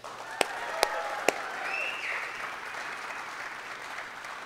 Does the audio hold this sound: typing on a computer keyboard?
no